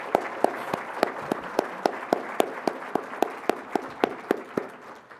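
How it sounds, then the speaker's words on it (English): Distinct, evenly spaced claps ring out one after another at a steady rhythm, sharp and fairly close, from a forum audience at an award presentation rather than a dense crowd roar. "Let's give them all a big round of applause."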